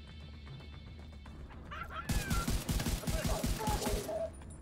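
Rapid gunfire in the video game The Division 2 breaks out as a dense, loud burst of evenly spaced shots lasting about two seconds, after quieter game ambience with faint sounds in the background.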